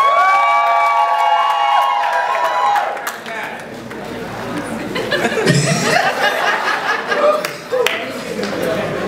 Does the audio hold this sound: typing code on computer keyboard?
no